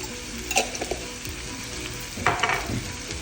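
Green chillies and fresh grated coconut fry in a little oil in a pan for a cabbage chutney. The sizzle is soft and close, with a few bursts of louder crackle and spatula stirring.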